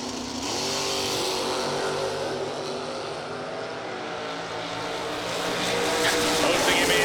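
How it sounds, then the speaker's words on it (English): Corvette drag racing off the starting line, a loud sustained engine roar with revving that builds toward the end, heard under an announcer's commentary. "Osting in the Corvette."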